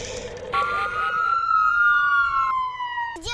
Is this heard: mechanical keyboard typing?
no